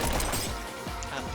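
Balloons bursting in a rush in the first-person speedrun game Neon White, a dense run of sharp shattering pops packed together amid loud game noise, with a voice talking underneath.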